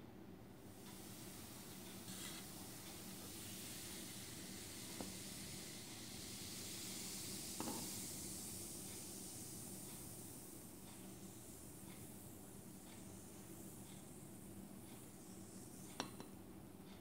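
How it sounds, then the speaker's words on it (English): Faint, steady fizzing hiss from an acid-base chemical reaction in a lab exercise, continuous throughout with a few small clinks of glassware. "May narinig ako ng fizzing sounds."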